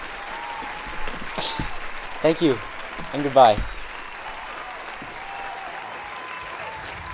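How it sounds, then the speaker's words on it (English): A studio audience at a psychology talk show gives a round of applause, heard as a soft, steady patter of clapping under a voice briefly speaking a closing farewell. "Everybody, give one more round of applause"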